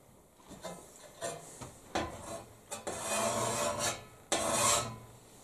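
A hand file rasps along the blade of a wildland fire tool such as a Pulaski, axe or McLeod, in a series of separate strokes that grow longer and louder, close by with no talking.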